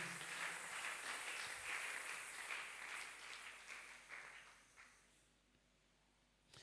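A church congregation breaks into sustained applause, a broad wash of clapping from many hands that gradually fades to near silence.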